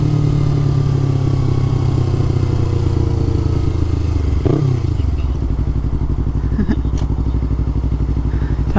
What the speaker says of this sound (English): I rev matched downshift once and then I just coasted on the second one